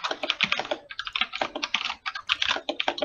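Rapid, irregular clicking of a computer keyboard being typed on, close and fairly loud, with bursts of keystrokes and brief pauses, heard alone during a live tech stream.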